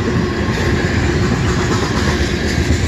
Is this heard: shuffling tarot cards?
no